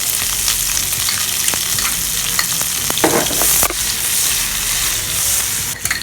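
Onions frying in a hot pan for pork lengua estofado, a steady loud sizzle running throughout with occasional stirring scrapes and clatter, no talking.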